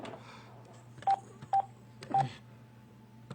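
Touch-tone DTMF beeps sound as a telephone is dialed to call a guest during a talk show: three or four short, clear tones spaced apart over a faint background hum, with no talking.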